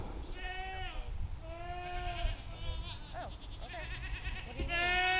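Several goats bleat loudly and close by, long wavering cries overlapping one after another, with a low rumble of background noise.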